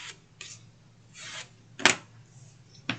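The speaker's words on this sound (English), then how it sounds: "So now I'm going to take my bone folder and just give this a nice little curl." A bone folder drawn along a strip of scrap paper to curl it gives soft close rasping strokes, several in a row, then a sharper scrape near the end and a brief tap.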